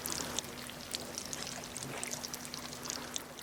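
Water bubbling beneath ice, a continuous faint gurgling trickle with scattered small pops and crackles, heard close and alone.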